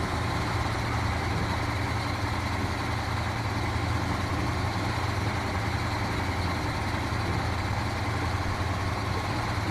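Chimera truck engine straining under a heavy loadout in the Snowrunner video game, a constant low droning rumble held at a steady loud level with no change in pitch and no talk.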